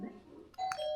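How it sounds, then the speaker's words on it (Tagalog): A doorbell chimes clearly, a bright electronic ding-dong tone ringing out after a moment of low background murmur. "Hindi tumunog yung doorbell?"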